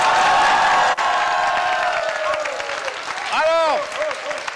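A school and student audience applauds at a live morning show, loud close clapping mixed with crowd noise and some voices, easing toward the end before a brief burst of voiced cheering.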